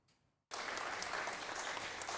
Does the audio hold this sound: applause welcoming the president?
yes